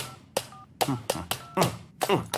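Someone dials a phone number in a brokerage TV commercial, with a rapid series of about six sharp keypress taps, some carrying brief beeps, close and fairly loud.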